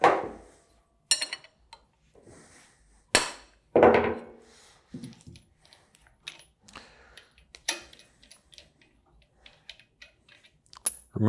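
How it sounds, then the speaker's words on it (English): Dead blow mallet striking the jam nuts on a Universal 1 PD pump, a series of sharp, irregular knocks separated by quiet gaps, close and distinct, with a few softer metallic taps between. "dead blow mallet."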